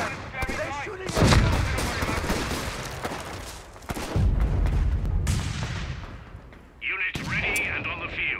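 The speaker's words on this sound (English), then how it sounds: "They're shooting!" Rapid rifle and machine-gun fire crackles through a Company of Heroes 3 battle at Monte Cassino, bursts repeating in loud waves over about eight seconds with distant booms, soldiers shouting over the shooting.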